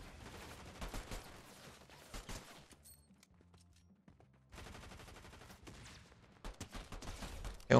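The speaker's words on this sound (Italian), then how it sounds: "Qui c'è anche un terzo che ci sta sparando." Bursts of gunfire in a shooter video game, fairly quiet and at a distance, with rapid volleys that stop for a short lull and then start again.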